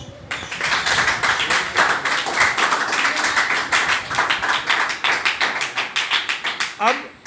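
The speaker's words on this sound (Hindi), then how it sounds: "तालियां बजाओ" Audience clapping at a Sahaj Yoga meditation gathering in a government senior secondary school, dense rhythmic claps filling the room and sustained for several seconds, with voices mixed in.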